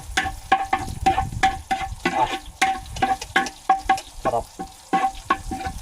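Garlic sautés in a pan under steady stirring, with repeated scraping strokes over a soft sizzle close by, and a brief spoken word.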